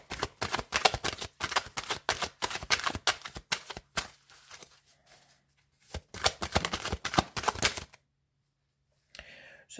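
A deck of tarot cards being shuffled close up, with dense bursts of riffling and flicking in several runs, short pauses between them, and a brief quiet stretch near the end.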